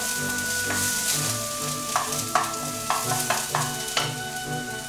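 Chicken seasoned with ginger and garam masala is stir-fried with vegetables in a pan for chop suey: a continuous loud sizzle, with several sharp scrapes and clatters as the pan is stirred.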